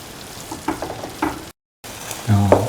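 Vermicelli egg pasta frying in a pan while being stirred slowly, a steady close sizzle with soft scraping strokes, a brief gap of silence, then a louder burst of sizzling.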